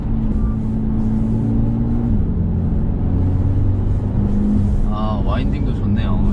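Mercedes-AMG A35 taking a curve in sport mode, its engine a steady low drone with a rumbling road hum, while a person talks over it.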